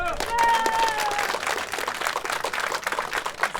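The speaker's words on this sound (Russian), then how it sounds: "Вам эти аплодисменты" Applause from a crowd at a 1:8 scale off-road RC car racing event, dense continuous clapping with a brief whistle-like tone near the start.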